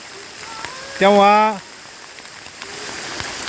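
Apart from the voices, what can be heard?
heavy rain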